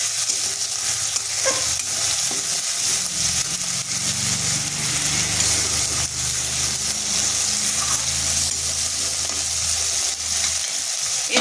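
Ground spice paste fries in a pan, a steady loud sizzle with crackling and occasional stirring scrapes running the whole time, with no talking.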